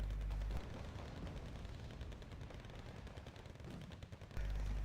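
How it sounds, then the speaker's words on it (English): Heavy 105mm artillery guns in the war strategy game Wargame: Red Dragon fire in a dense, continuous barrage, with loud overlapping booms and rumbling blasts that fill nearly five seconds with no voices. "Now my 105s are firing"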